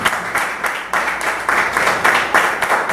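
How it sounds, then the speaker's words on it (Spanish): A church congregation applauds the Lord in a loud, sustained round of clapping that pulses in regular bursts about twice a second, filling the room with no voices standing out. "Dale un fuerte aplauso al Señor"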